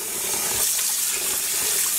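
Tap water runs steadily into a sink while dyed yarn is rinsed, giving a continuous close, hissing splash with no talk.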